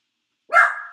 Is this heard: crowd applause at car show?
no